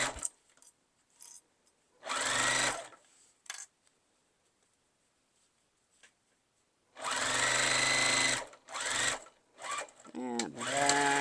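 A sewing machine stitches and backstitches the seam of a fabric iPad case or book sleeve in a few short loud bursts of rapid whirring separated by quiet pauses.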